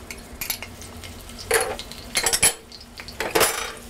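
A spoon scrapes and clinks against a bowl and hot pan while garlic and ginger go in for Chinese chicken and cashews, in short metallic bursts over a faint sizzle.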